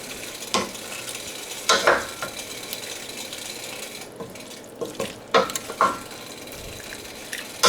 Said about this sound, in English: I'm just gonna add a little tiny bit of broth, like 1/4 of a cup